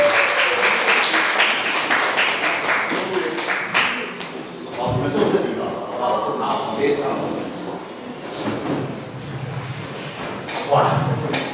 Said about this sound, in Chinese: 我们用热烈掌声欢迎 Ethan 跟 Felicia 来